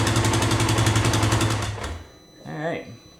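A rebuilt 570 engine, low on coolant, runs with a loud, steady buzzing drone, then is shut off and quickly dies away. A voice follows briefly afterward.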